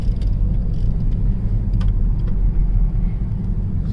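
A BMW 320d diesel sedan cruises smoothly in Eco Pro mode, giving a steady, loud low road and engine rumble heard from inside the cabin, with faint clicks on top and no talking.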